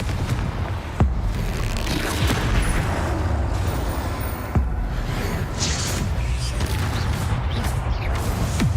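Confringo spell blasts in Hogwarts Legacy: two sharp, loud explosive cracks about three seconds apart, set within a continuous deep rumbling battle din with scattered clanks and whooshes.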